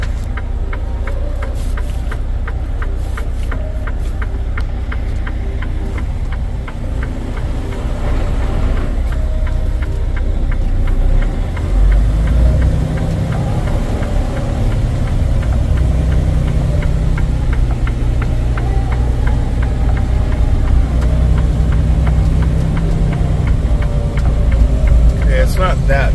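A truck engine idles steadily with a low, continuous rumble while parked on a sheet of pure ice during an ice storm in Portland, with a person speaking over the engine noise.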